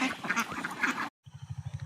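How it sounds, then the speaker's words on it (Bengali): Ducks on a duck farm quack in a quick rhythmic series of close, loud calls after a brief pause, following a busy stretch of overlapping flock noise. "50টা হাঁস আছে।"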